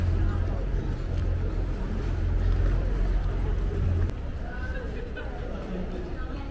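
Public water-bus boats on a Venice canal give a steady low engine rumble and water churn, with crowd chatter throughout.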